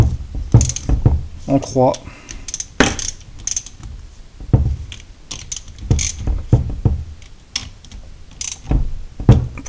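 Ratchet wrench clicking as bolts are tightened on a Chevrolet Van power steering box under restoration, close and loud, with bursts of rapid clicks and metallic knocks; someone speaks briefly in between.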